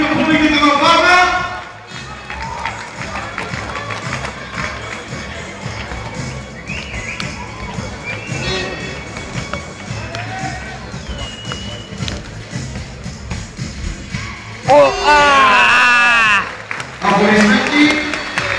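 Crowd applause at a Bulgarian NBL All-Star slam dunk contest in Varna, a broad sustained wash of clapping and arena noise with an announcer's amplified voice cutting in at the start and near the end.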